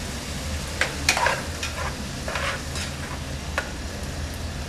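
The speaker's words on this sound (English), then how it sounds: "I'm gonna go ahead and add some butter in here because butter is amazing." Butter sizzling in a pan with garlic and meat for keto jambalaya, a steady close hiss with a few sharp scraping stirs and pops, no talk.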